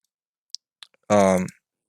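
Computer keyboard keys are pressed for a shortcut, giving a few faint isolated clicks before a short burst of voice.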